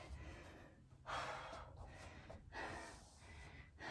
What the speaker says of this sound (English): Let's get our breathing under control